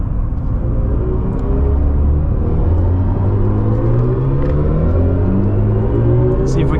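A 2024 BMW i5 M60 electric car accelerates hard on a small racetrack, giving a steady loud whirring drone with rising tonal motor whine and road rumble heard from inside the cabin.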